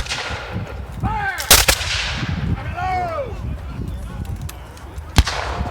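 Flintlock muskets fired in volleys at a War of 1812 battle reenactment, sharp loud cracks at intervals over a busy outdoor crowd with whistling, swooping sounds between the shots.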